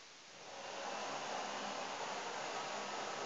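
A steady, loud broadband whoosh of a vacuum cleaner motor, swelling up in the first half second and then holding constant.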